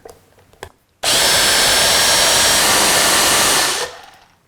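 Kitchen appliance with a lid mixing bean dip ingredients, including salt and onion powder, a loud, steady whir that starts abruptly, runs about three seconds, then winds down.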